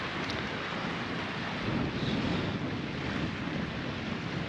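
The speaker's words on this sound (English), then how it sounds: "It's really cooled down now that wind's picked up" Wind blowing steadily at the ocean on a cool evening, a constant broad rushing roar with gusty buffeting on the microphone and faint surf underneath, no voices.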